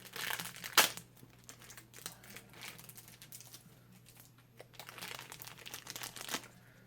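Soft, close crinkling of a thin plastic accessory bag comes in irregular bursts, with one sharper crackle early and quieter rustling in between.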